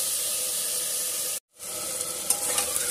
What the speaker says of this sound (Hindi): आलू, इनको अच्छी तरह से मिला लेंगे और भूनेंगे अच्छी तरह से